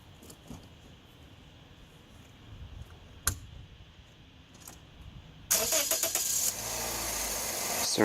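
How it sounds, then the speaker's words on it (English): A 2007 Toyota Corolla engine cranks and catches about two-thirds of the way through, then settles into a steady idle after a quiet stretch with a single sharp click. "Starting up the engine,"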